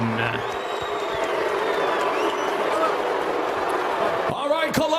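An arena crowd in Columbus, Ohio roaring loudly after an MMA fight decision, a dense sustained wall of voices, with an announcer's voice coming in near the end.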